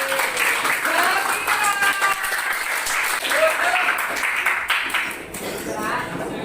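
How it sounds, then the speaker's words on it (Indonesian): Audience applause fills a teacher coaching and academic supervision session, a dense steady wash of many hands clapping with some voices mixed in, holding at a fairly even level throughout. "Tepuk tangan untuk kita semua."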